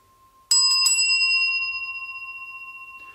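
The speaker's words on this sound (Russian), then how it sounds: "Это редкие колокольчики" A small rare bell from a sound-healing singing bowl set is struck, two quick metallic hits followed by a clear ringing tone that decays slowly with a gentle wavering pulse.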